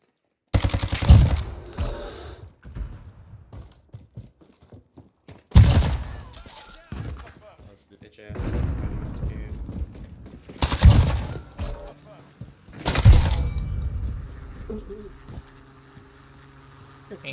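Gunfire in the video game Modern Warfare comes as several loud, sharp bursts of automatic fire separated by quieter stretches of game noise, with a player talking between shots.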